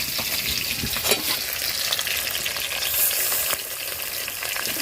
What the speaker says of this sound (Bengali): দুটো করে মাছ আমি ভেজে নেব।